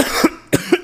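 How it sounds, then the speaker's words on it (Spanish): Three sharp coughs from a sick child, the first alone, then a pause and two more close together, near and clear with no talk over them, in a Spanish-language comedy sketch. "¡Mira cómo estás de la tos!"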